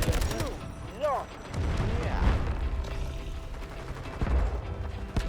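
Gunfire in the shooter video game Delta Force, bursts of shots and booming impacts over a constant rumble of battle, with a voice talking over it.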